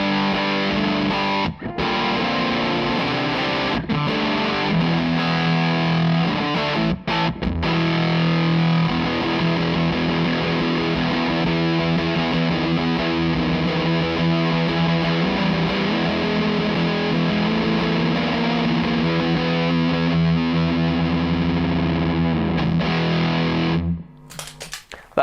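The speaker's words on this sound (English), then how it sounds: "So the Thorpey Fuzz on its own, and then with the Broadcast." Electric guitar through a Thorpey Fuzz pedal, first alone and then stacked with a Broadcast pedal: thick, saturated sustained chords and riffs with a few brief breaks, loud and close, ending abruptly in a short burst of noise.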